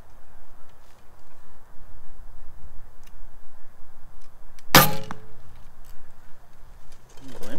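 An arrow released from a barebow fitted with W&W MXT-10 limbs gives one sharp, loud crack midway, standing out over steady outdoor background noise, with quiet talk nearby.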